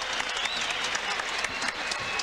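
A big arena crowd applauds and cheers at a women's kickboxing match at the Thomas & Mack Center in Las Vegas, sustained dense clapping with a commentator talking over it.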